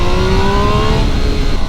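A 2025 Triumph Tiger Sport 800 motorcycle engine revs up, a loud, close, steady rising drone with a gritty tone and no talk over it.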